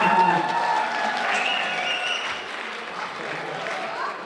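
An audience at a Dashain gathering in Stuttgart claps steadily, a dense even patter of many hands that holds at a moderate level for several seconds.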